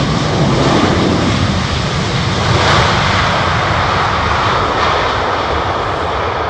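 A Boeing 787 Dreamliner jet airliner lands at London Heathrow, its engines giving a loud, sustained broadband roar that holds steady throughout and eases slightly toward the end.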